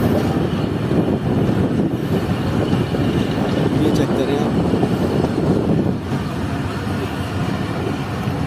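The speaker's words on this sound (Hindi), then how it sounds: "ये 5:55 पर ट्रेन निकल रही है रशीदाबाद रेलवे स्टेशन से।" The Shah Latif Express pulls out of Rashidabad railway station, a loud rumbling roar of rolling wheels and carriages with wind buffeting the microphone, heard from on board and steady throughout.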